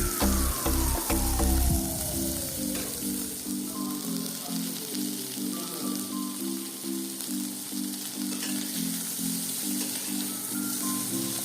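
Mixed vegetables sizzle steadily in a hot pan for a chicken stew, a continuous close hiss with a faint crackle, running evenly under a background of steady musical tones with no talking.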